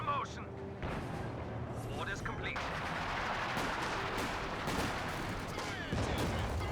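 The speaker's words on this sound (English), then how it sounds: "Great pack howitzer hit." Pack howitzer fire in the Company of Heroes 2 strategy game comes as a dense run of booming shell blasts and gunfire cracks. The bursts are steady and loud, with a few sharper hits near the end, and a voice talks underneath.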